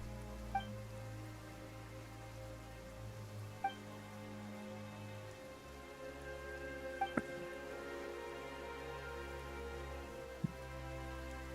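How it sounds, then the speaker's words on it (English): Steady soft rain pattering across the world of the game Genshin Impact, in Fontaine, with a few faint chime-like tones and small clicks over a low background. "Why is it raining all of a sudden?"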